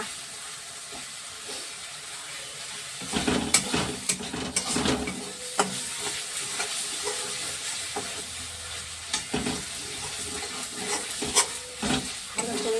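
Masala for rohu fish kalia sizzles loudly in hot oil while a spatula stirs and scrapes the pan, steady frying hiss with bursts of clatter and spitting.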